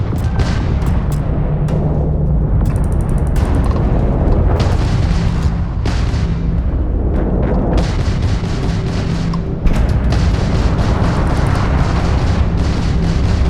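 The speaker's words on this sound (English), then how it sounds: "Warning! Warning! Incoming fire!" Heavy incoming-fire explosions in the video game Starfield, a relentless barrage of deep booms and sharp blasts with crackling debris, loud and overlapping for the whole stretch, with a few short gaps between volleys.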